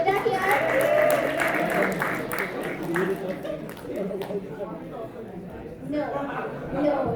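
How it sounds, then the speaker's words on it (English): Student audience at an Indian Student Association cultural show clapping for a performer called to the stage, a dense burst of applause that thins out, with chatter and voices throughout. "a big round of applause for Teja here."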